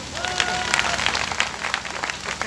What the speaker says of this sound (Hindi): भाई अब महिलाएं इनके लिए तालियां बजाएं।